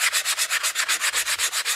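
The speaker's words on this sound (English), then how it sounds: "we're just gonna use a little sanding block and some 220 grit" Steady back-and-forth strokes of a small sanding block with 220-grit paper smoothing an aluminum casting, about fourteen even, close rasping passes in a regular rhythm, with no talking.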